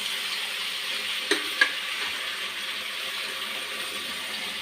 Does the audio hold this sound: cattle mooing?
no